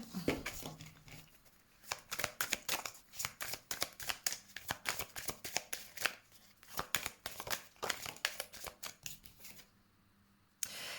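Tarot cards being shuffled and drawn by hand, a long run of quick crisp riffling and flicking bursts, close and clear, with a soft rustle and one last card snap near the end.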